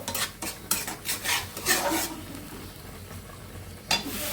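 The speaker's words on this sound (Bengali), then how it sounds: "ভালো করে মশলাটা কষিয়ে নিয়ে আমি তরকারি দিয়ে দেব।" Spice paste for a bottle gourd curry is stirred and fried in a pan, with repeated scraping strokes of a spatula over a soft background sizzle, close and without talk.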